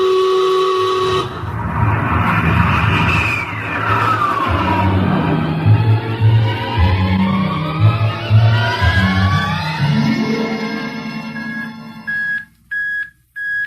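A spaceship blasting off in a science-fiction film, a loud roaring rumble with rising whining tones that sweep upward, swelling and pulsing before cutting out abruptly near the end.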